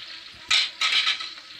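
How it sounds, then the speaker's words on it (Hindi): Chopped vegetables go into fried masala in a pressure cooker while a restaurant-style mix veg gravy is being made, giving two short bursts of sizzling and stirring scrapes against a faint background hiss. "आप लोग देख लीजिए ये वाली सब्जी मैं ऐड कर रही हूँ अभी इसमें कुकर में।"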